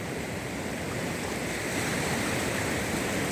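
Ocean waves wash steadily onto a beach on a mild day, a continuous loud broadband roar of surf with no distinct break, close to the microphone and alone without voices.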